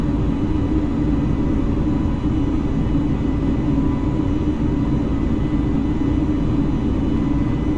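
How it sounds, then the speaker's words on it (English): An Airbus A320 airliner takes off in Microsoft Flight Simulator, its engines making a loud, steady, low roar and rumble that stays constant with no speech. "look at that aircraft taking off so fast"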